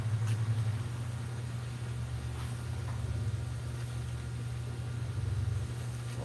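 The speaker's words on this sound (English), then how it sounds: "All kinds of weird traffic here right now." Steady road traffic rumbles past nearby during a tree-care gear chat, a low continuous engine drone with a broad hiss and no talk.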